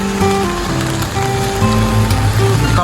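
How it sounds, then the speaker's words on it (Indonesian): Rain pouring steadily in a mountain area of Japan, a loud, dense hiss of drops on surfaces with faint tonal hums underneath, continuous and close, no voices. "Ini kawan-kawan kalau kita mau berangkat kerja hujan-hujan."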